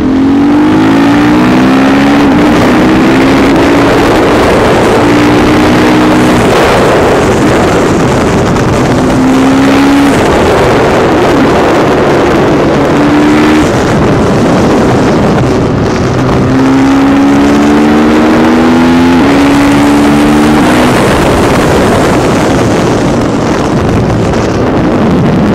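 A supermoto motorcycle engine revs hard while riding on a road fitted with supermoto wheels, rising through the gears in repeated climbing pitches under heavy wind noise, loud and continuous.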